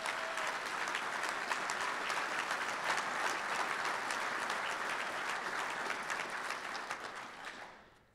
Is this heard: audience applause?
yes